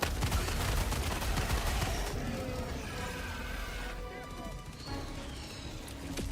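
Mortar and gunfire in Helldivers 2 fill the opening seconds with dense, rapid bursts of shots and blasts. The firing thins into scattered reports over in-game effects, with voices briefly heard.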